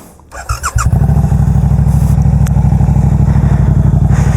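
A Suzuki GSX-8R motorcycle with an aftermarket full exhaust, ECU flash and airbox mod fires up with a few sharp bursts, then settles into a loud, steady, throaty idle with a rapid, lumpy exhaust pulse, close by.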